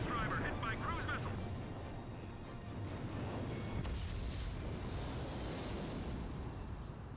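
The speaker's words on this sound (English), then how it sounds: "Mass driver hit by cruise missile." Cruise missile striking a mass driver in Ace Combat 5: a long, low rumbling explosion roar that stays broad and steady for several seconds, with brief crackling bursts near the start.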